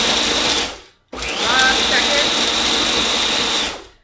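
A blender whizzes salted crackers and pistachios into fine crumbs for a chipotle, smoked paprika and pistachio pork crust, a loud steady motor whir that cuts out briefly, then restarts and runs evenly before stopping.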